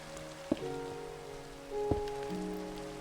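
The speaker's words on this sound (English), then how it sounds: "Oh, it's raining." Rain falling in the Minecraft video game, a soft, steady patter over quiet background tones and a couple of brief knocks.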